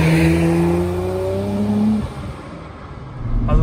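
Nissan Skyline R34 GT-R V-spec II Nür with NISMO factory upgrades revs hard, its engine climbing in pitch for two seconds, dropping off, then barking back up near the end, loud and close with no talking.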